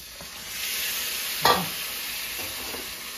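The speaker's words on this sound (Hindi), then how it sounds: "मटन, ये मटन इसको डाल दिया, आलू डाल दिया और उसमें से फ्राई हो रहा है।" Mutton and potatoes fry in a pan with a steady sizzle, and a utensil stirs once with a brief scrape near the middle; no talking.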